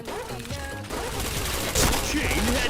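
Rapid bursts of automatic gunfire in a video game, crackling fast and close over a couple of seconds, mixed with background chatter.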